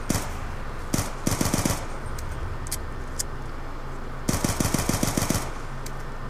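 Rapid bursts of automatic gunfire from Black Ops 2 Zombies on the Origins map, shooting enemies in repeated clusters of sharp shots with a quieter gap between them, over steady game background noise.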